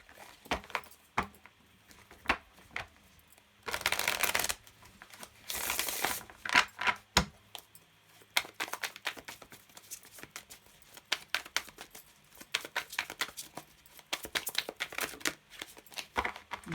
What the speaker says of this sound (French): je mélange bien parce que j'utilise les mêmes oracles à chaque fois